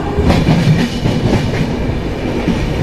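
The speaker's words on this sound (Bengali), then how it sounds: "বালেশ্বর স্টেশন থেকে বেরিয়ে যাচ্ছে ট্রেন।" Puri Howrah Superfast Express 12838 pulling out of Balasore station, a steady loud rumble of wagons with rhythmic clickety-clack of wheels over rail joints throughout, no voices.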